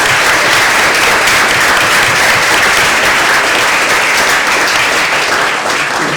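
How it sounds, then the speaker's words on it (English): An audience gives a loud, continuous round of applause for a visiting-artists panel, dense clapping filling the whole stretch at an even level. "So let's give a big round of applause for John, Anthony, David, and Phil."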